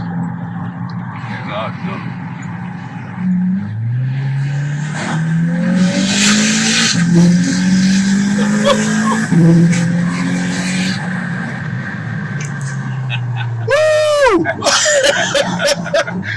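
A Volkswagen Golf 6 R pulls hard under loud, sustained engine roar with rising gear tones and turbo spool, ending in a sharp tire squeal near the end; people talk and laugh over it.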